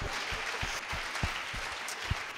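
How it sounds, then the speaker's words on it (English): A church congregation at a Sunday service claps for a woman, giving a loose, moderately faint patter of hands that runs steadily with a few sharper accents and no talk over it. "Clapping for her"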